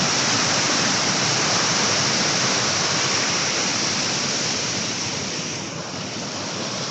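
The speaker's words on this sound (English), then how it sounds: "Water's gushing through these gates here." Water gushes through the weir gates at Hambleden Lock on a river, a loud, continuous roar of rushing water that stays constant throughout and is heard without any talking.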